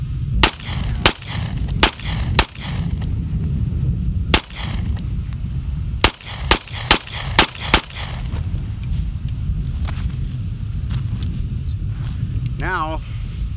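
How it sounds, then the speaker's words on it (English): Gunshots fired outdoors at an old desert camping and shooting spot in Lucerne Valley, about a dozen sharp loud cracks in irregular groups of single shots and quick runs, with wind noise between. "let me shoot off my last one here, and then I'll fire off something bigger"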